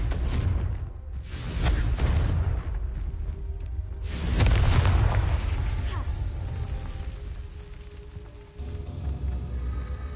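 Incendio fire spell cast in Hogwarts Legacy: a few deep booming bursts with whooshing rushes, the loudest around the middle, over continuous game ambience and mechanical clatter.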